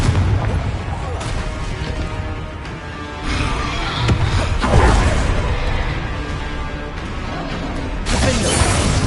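Confringo blasting spells go off in a Harry Potter video game, a dense run of loud crackling bursts and booming impacts with sharp explosive onsets near 3, 5 and 8 seconds, while a voice is heard among them.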